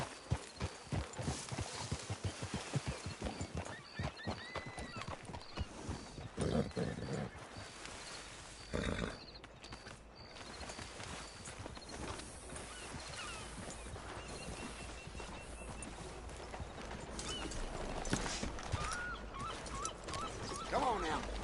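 Horse hooves clip-clop in a steady, continuous rhythm while riding in Red Dead Redemption 2 online on PC, with occasional neighs and game ambience, close and moderately loud.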